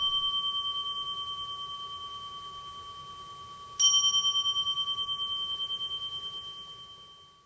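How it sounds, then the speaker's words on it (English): A Zen meditation bell in a zendo rings with a long, pure sustained tone, then a second strike sounds and rings out, slowly decaying in otherwise quiet surroundings. "The third period of zazen begins just as the second did, with 3 bells."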